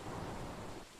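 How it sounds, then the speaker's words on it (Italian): A steady, loud broadband whoosh of wind in the video game Woodle Tree Adventure fills the whole moment, easing slightly toward the end. "C'è il rumore del vento."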